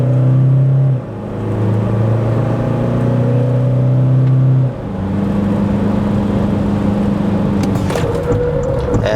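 A Toyota Hilux pickup in Sport mode launches hard from a standstill, its engine revving loudly and climbing through gears with a brief drop at a shift, then pulling strongly again to the end.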